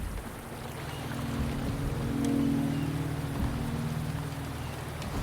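Steady video game rain falls, a soft continuous patter with a low ambient drone that swells gently midway, with no one talking.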